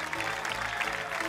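Dense, steady applause from a television music show audience, a continuous hiss of many hands clapping at a moderate distance with no single claps standing out.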